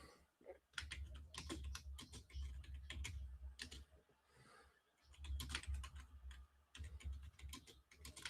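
A computer keyboard clatters in quick, uneven bursts of typing, fairly close and quiet, with a couple of short pauses between flurries.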